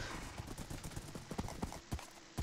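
Horse hooves clip-clop in the Minecraft Feed The Beast game, a quick run of close, irregular hoofbeats with no talk over them.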